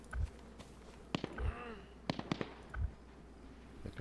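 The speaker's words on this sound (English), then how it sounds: "That gun's loud." Gunfire in the video game DayZ comes as several sharp, punchy shots spread irregularly across a few seconds, set against a quiet low hum, with no talk.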